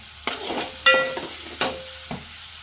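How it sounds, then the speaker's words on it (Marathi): Ginger-garlic paste and a bay leaf cook in a pan with a soft sizzle, broken by a few sharp utensil knocks and scrapes, plus a brief ringing tone. "आला लसूण पेस्ट मस्तपैकी शिजवून घेऊया"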